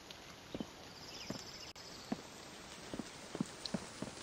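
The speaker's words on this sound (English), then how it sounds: "Gee, now we got the loud rain and the thunder." Video game rain falls in a steady hiss with scattered drop-like taps at an even pace and one brief dropout, fairly quiet and with no one speaking.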